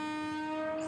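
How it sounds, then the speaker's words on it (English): An electric locomotive's engine whistle sounds as a single steady, loud, tonal blast held for just under a second. "loco pilot will exchange all right signal with guard and sound engine whistle"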